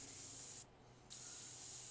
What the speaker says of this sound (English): So you can see I'm spraying unevenly